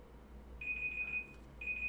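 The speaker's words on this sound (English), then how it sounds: "you heard the timer" A timer alarm beeps in two steady, sustained bursts with a short gap between them, moderately loud over a quiet room background, with no talking.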